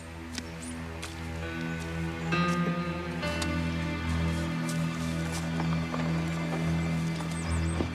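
Horse hooves clip-clopping at a walking pace, a steady rhythmic clatter heard close and moderately loud over a low sustained musical drone, with no talking.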